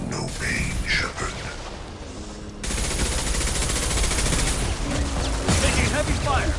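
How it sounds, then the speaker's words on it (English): Dense gunfire in Mass Effect 2, sustained rapid automatic fire and crackling shots filling the scene loudly, with a brief lull before the barrage intensifies. "Taking heavy fire!"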